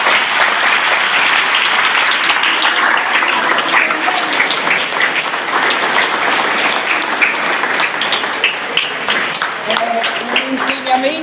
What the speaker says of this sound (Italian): Che bello, l'applauso.